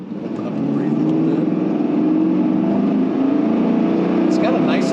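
A factory-exhaust LS1 V8 in a 2000 Chevrolet Camaro Z/28 drones steadily as it accelerates, recorded from inside the car, loud and continuous with a rising tone.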